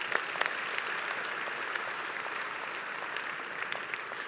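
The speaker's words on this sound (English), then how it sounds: "Yeah, we can clap for that." An audience at Redding's 2024 State of the City event claps for a retiring solid waste supervisor with 44 years of service. The applause is a steady, full roar of many hands that holds evenly throughout.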